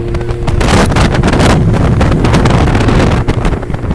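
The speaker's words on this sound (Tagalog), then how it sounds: "The wind is coming from the right side." Loud, constant wind buffeting the microphone during a road cycling race stage, a heavy roaring rumble with rapid flutters that never lets up.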